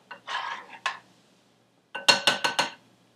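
An Asian spoon stirs a single serving of tomato basil soup in a bowl: a couple of soft clinks, a pause, then a quick run of four brighter scraping clinks close by.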